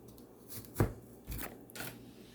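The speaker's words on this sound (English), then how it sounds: "Go ahead and take my knife. Just stick each potato." A knife is pushed into raw potatoes to score them before slow cooking, giving a few soft, separate thuds over faint room tone, with no talking.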